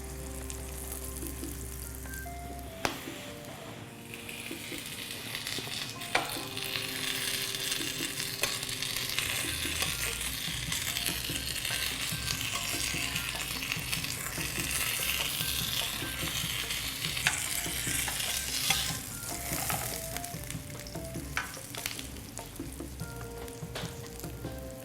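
Meat-filled Chinese dumplings fry in a hot pan with a steady, close sizzle and crackle that runs throughout, with occasional spatters and a brief scrape partway through.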